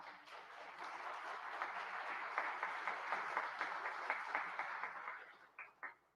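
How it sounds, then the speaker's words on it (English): An audience claps in a large hall during Michigan's State of the State address, a moderate, sustained smattering of applause that thins out into a few scattered final claps. "All right, some claps over here."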